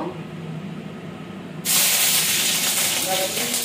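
Green chili and whole spices dropped into a hot wok, a sudden loud sizzle that bursts in and keeps hissing steadily after a quieter stretch with faint kitchen noise.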